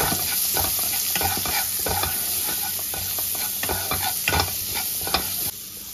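Food frying in a pan with salt and turmeric, stirred continuously, with a steady bright sizzle and a rapid run of scraping spoon strokes throughout.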